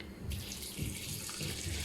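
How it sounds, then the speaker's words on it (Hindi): Water pours steadily into a pot of chicken cooking with lentils for shami kebabs, a continuous close splashing rush that starts abruptly and runs on alone without talk. "मैं थोड़ा सा बीच में ऐड करूँगी पानी"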